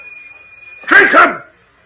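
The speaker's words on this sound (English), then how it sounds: "The old hound dog, Damon." An old hound dog in a radio drama gives two quick, loud barks close by, following a steady electronic tone, with no voices over it.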